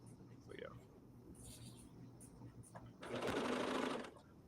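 A bernette b68 serger sewing fabric runs in one loud, dense burst of about a second, preceded by people talking over a low background hum.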